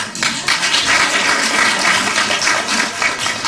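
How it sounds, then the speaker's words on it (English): An audience gives a round of applause at a symposium, a dense, steady wash of many hands clapping at once that fills the whole short stretch with no voices standing out. "Round of applause."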